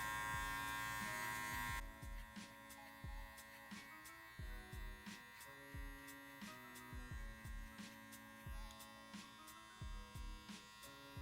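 Electric hair clippers buzz steadily while cutting a faux hawk haircut, a close, droning hum that shifts into a rhythmic pattern of repeated strokes through the hair, with no talking.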